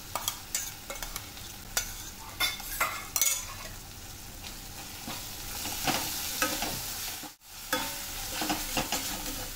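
Ground masala paste for a vegetable Kolhapuri curry sizzles in a pan while a spoon stirs and scrapes through it, with soft intermittent clinks and steady frying close by.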